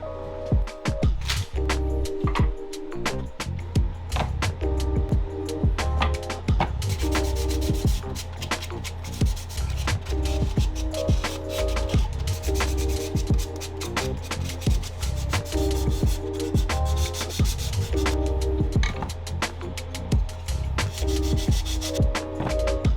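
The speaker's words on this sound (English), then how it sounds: "Making sure all these wooden pieces are sanded down and nice and smooth" Wooden crate pieces being sanded smooth by hand, a steady, loud, close rasping rub with continuous back-and-forth strokes, and no talking.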